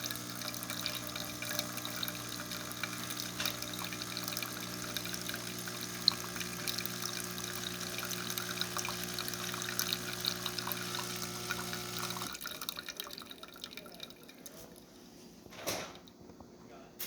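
DeLonghi Magnifica S espresso machine after a full tune-up, pumping a test shot with a steady mechanical hum and trickling pour that stops abruptly, followed by quieter clicks.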